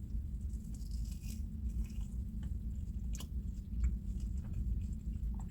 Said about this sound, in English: Okay, let's take a first bite.